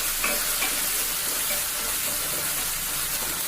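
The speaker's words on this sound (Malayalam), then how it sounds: "വീണ്ടും നന്നായിട്ട് ഇളക്കുക" Beef filling with cashews being stirred in a pan for a Kerala-style banana beef roll, a steady close sizzle with soft scraping of the spoon, no talk.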